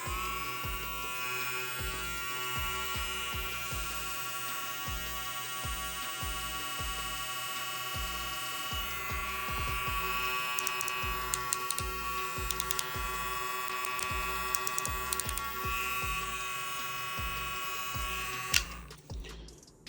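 Kemei 1856 and Bill Pro BL-350 cordless hair clippers run with a steady, close electric buzz and strong motor hum, continuing unbroken for most of the stretch before cutting off near the end.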